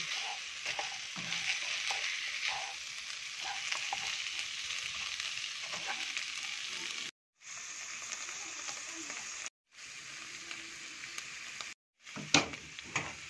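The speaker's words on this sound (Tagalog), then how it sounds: "Ilagay na po natin ang munggo. Haluin." Steady sizzling and frying of mung beans being stirred in a pan, with scraping stir sounds running throughout and a few brief gaps of silence.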